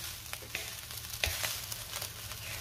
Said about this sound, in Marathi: आता 1 मिनिटभर आपण हाय फ्लेम वरती चांगलं परतून घेऊया।